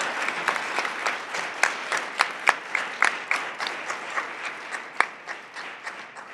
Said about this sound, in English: Let's all give a round of applause for the newest members of the National Business Honor Society.